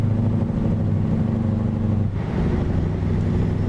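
A heavy truck engine idling or cruising in an SCS Software trucking game, a loud, steady low rumble with a brief dip midway before it resumes.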